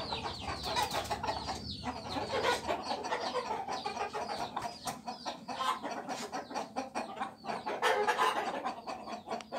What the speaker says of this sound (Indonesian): Ayamnya pada kaget